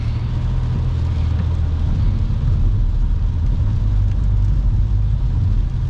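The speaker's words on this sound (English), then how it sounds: "I don't want the spray coming up, and you can hear it. Hear all that water kicking up?" Car tires hissing and spraying water on a wet interstate in the rain, a steady loud low rumble of road noise and splash running throughout, with no one speaking.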